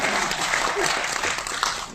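An audience at a kavi sammelan poetry gathering claps loudly and continuously for a couple of seconds, a thick even wash of applause with a few sharper claps near the end.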